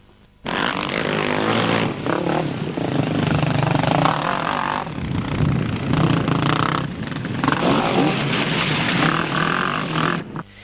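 A Yamaha YFZ 450 quad bike racing at Waddon, its engine revving hard and loud, rising and falling through gear changes as it passes close by, with brief dips between bursts of throttle.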